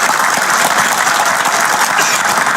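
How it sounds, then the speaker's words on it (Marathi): A large outdoor political rally crowd for Uddhav Thackeray in Akole, Ahmednagar, applauding loudly and continuously, dense clapping from many hands filling the whole stretch. "बघा मी बोलल्यानंतर टाळ्या वाजल्या"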